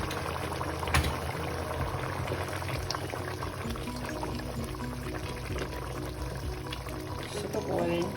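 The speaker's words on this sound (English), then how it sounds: "As you can see, it's been boiling." A pot of Nigerian ogbono soup with bitterleaf bubbles at a steady, quiet boil on the stove, giving a soft continuous simmer with a brief clink near the start and a voice speaking over it.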